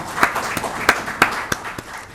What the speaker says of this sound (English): Let us clap for him.